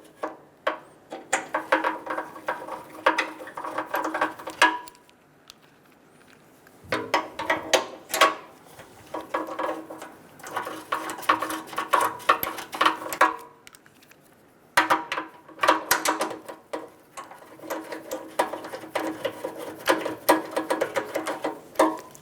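Bolts are threaded by hand onto the front bumper impact bar of a 2007–2011 Toyota Camry, giving bursts of close metallic ratcheting clicks separated by short pauses.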